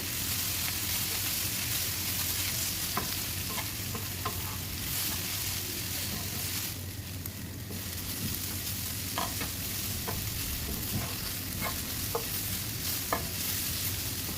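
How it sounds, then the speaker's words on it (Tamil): Beef deep frying in a pan gives a continuous sizzling hiss, broken by occasional scraping and clinking as it is stirred, close and steady throughout with no speech. "நம்ம டீப் ஃப்ரை ஆல்மோஸ்ட் ரெடி ஆகிட்டே வருது"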